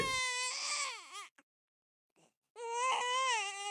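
An infant wails loudly in two long, rising-and-falling bursts separated by a brief near-silent pause with a small whimper.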